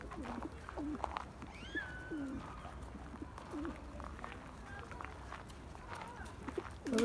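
Birds call and flutter nearby at a coop, with short chirps and a few cooing notes over a steady low outdoor rumble and faint footsteps.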